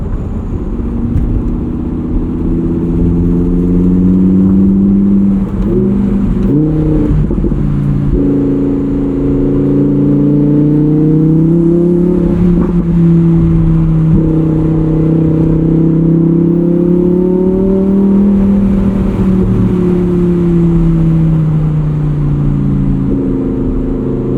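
Engine of a 2021 Lamborghini Huracán EVO Spyder driven in Sport mode, a loud continuous droning roar heard from inside the car that rises and falls in pitch with changes in speed, with no talking.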